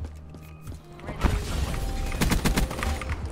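Rapid hipfire bursts from a gun in Black Ops 3, a crackling cluster of shots over busy game noise, with the sharpest volley near the end.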